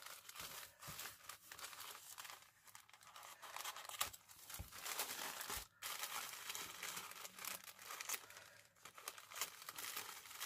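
A small plastic packet is torn and opened by hand, making faint, close crinkling and crackling with scattered sharper rustles over about ten seconds, without speech.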